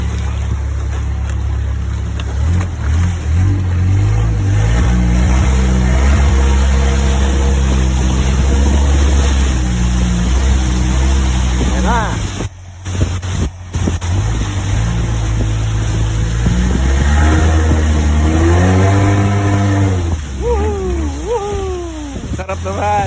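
Motorboat engine droning loud and close throughout a boat ride at a floating market, with a steady low hum, a brief dropout midway, and people talking and exclaiming over the motor.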